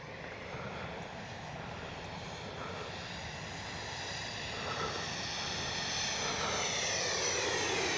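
Freewing F-22 70mm EDF model jet making a dirty low pass with retracts and landing flaps deployed, a steady whining turbine-like roar that swells gradually as it approaches and grows louder toward the end, heard alone without voices.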